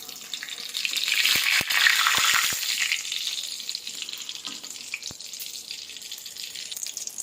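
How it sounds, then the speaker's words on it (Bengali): Potato chops sizzle in hot oil, a steady bright frying hiss that swells early and then settles, with a few sharp taps of a utensil against the pan and no talking. "আমি তো চপ কোনোদিন ভাজি না, এই প্রথম ভাজছি"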